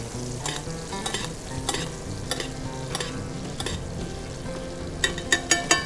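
Steak fries in a pan with melted butter and butter cubes, a steady close sizzle with a rhythmic scraping and splashing as butter is ladled over the top, quickening at the end.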